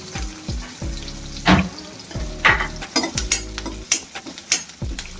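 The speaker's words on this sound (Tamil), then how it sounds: "பூண்டும் போட்டு வதக்கலாம் ஒரு கைப்பிடி கருவேப்பிலை" Garlic and a handful of curry leaves sauté in hot oil in a pan for a Tamil mutton head curry, a steady close sizzle broken by repeated scraping stirs and light clinks of the utensil against the pan.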